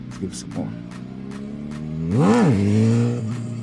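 A motorcycle engine revving at slightly under half throttle during a wheelie attempt, humming steadily and then swelling in one brief rising-and-falling rev near the end, close and moderately loud.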